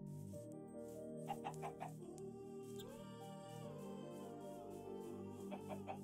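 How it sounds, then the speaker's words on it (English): In the SevTech: Ages Minecraft modpack, a chicken-themed song plays continuously with clucking, chicken-like tones layered over steady melodic backing. It stays at an even level throughout, with no talking. "That chicken song in the back."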